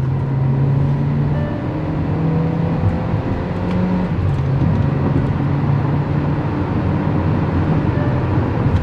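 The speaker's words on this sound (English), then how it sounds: "Listen to the engine now." A Kia Carens 1.4-litre turbo petrol engine with a dual-clutch gearbox accelerates under load, a steady loud drone heard from inside the car with its pitch rising and falling through quick gear changes.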